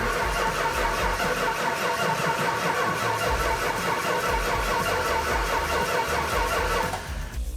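A 1970 Hemi Challenger engine cranks repeatedly in a fast, rhythmic churn, close and loud, before the sound drops off near the end.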